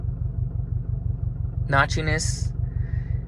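A 2021 Subaru STI fitted with a Group N shifter idles with a steady, low, pulsing boxer-engine burble close by, while someone briefly talks over it.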